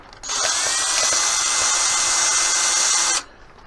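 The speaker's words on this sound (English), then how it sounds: "How I've had the drill turning the right way, just far enough through to introduce itself." A power drill drives a screw into wood in one steady, high-pitched whine of about three seconds, close and loud, starting and stopping sharply.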